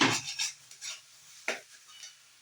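Sattu is spooned into a vegetarian chhana kochuri filling: close metal spoon scrapes and clinks against a bowl, a few separate bursts with one sharp tap near the end, no talking.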